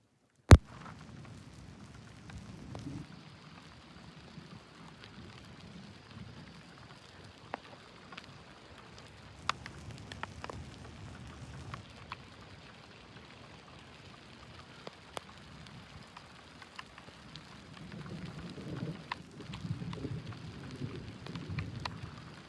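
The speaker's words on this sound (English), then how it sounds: "The rain sure come fast." Rain falling in a thunderstorm in open country outside Corson, South Dakota: a faint, steady patter with scattered drops and low rumbles swelling near the end.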